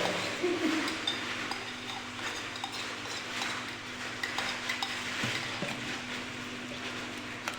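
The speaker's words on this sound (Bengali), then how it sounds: "কতক্ষণ লাড়ি সারি নিতে হইব।" A utensil scrapes and stirs garlic, ginger and flour in a pan over gentle frying sizzle, with repeated clinks of metal against the pan in an irregular rhythm, close and moderately loud.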